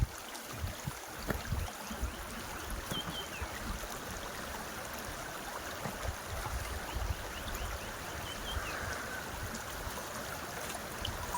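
Continuous low rushing and burbling of a clear stream flowing down from a hillside, steady and fairly faint throughout, with no voices.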